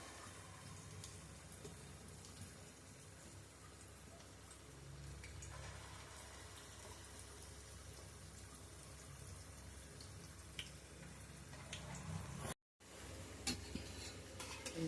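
Chillu garelu, Telugu lentil vadas, frying in hot oil for a Dasara meal, giving a steady, dense sizzle and bubbling crackle close by throughout, with a brief cut near the end and no talk.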